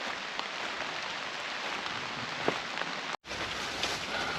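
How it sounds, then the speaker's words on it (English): Rain falling steadily on a wooded hiking trail, a dense, even patter close around with scattered drops striking nearby surfaces and a brief dropout near the end. "Found a little shelter. Kind of get out of the rain."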